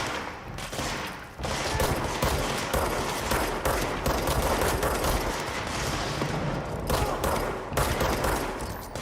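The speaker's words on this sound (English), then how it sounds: "I don't know who's shooting at who with all this." Heavy sustained gunfire from the video game Control, dense overlapping shots and bursts filling the scene loudly and continuously, with a brief lull near the start before the firing surges back.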